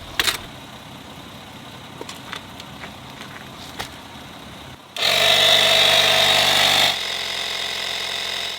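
A plug-in corded tire inflator starts up after scattered handling clicks, its motor buzzing loud and steady with a bright whine for about two seconds, then settling into a lower, continuous hum.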